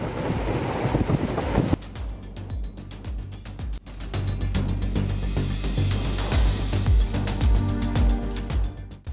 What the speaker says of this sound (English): So you're gonna get some water splashes as you try and navigate this area